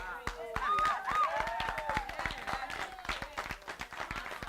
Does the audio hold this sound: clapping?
yes